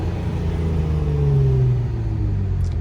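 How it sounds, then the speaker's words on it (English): Straight-piped Infiniti Q50 exhaust heard from inside the car with windows down, a steady loud low rumble and drone whose pitch slides slowly downward as the engine eases off, continuous throughout with no talk. "Hear that exhaust."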